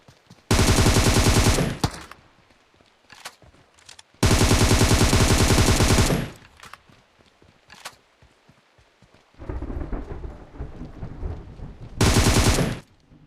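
Loud, close bursts of automatic gunfire from the mobile battle-royale game PUBG Mobile come in three long volleys. Scattered single shots and rattling fill the quieter gaps between them, with no talking.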